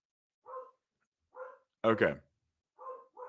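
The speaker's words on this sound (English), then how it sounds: "My dogs are going nuts." Dogs in the background bark in short, repeated bursts, fairly faint and spaced apart. A person says a brief word between the barks.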